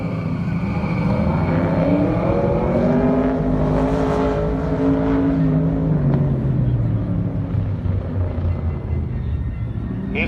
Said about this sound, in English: Scott Frazier's on the line with his 66 Big Block Cobra